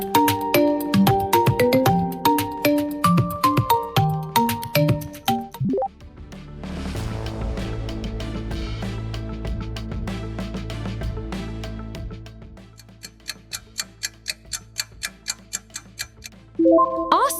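Alcatel mobile phone ringtone: a bright electronic melody of rapid tonal notes, shifting midway into a denser sustained synth passage, then returning to a quick regular ticking pulse of repeated notes, loud and clear with no talk.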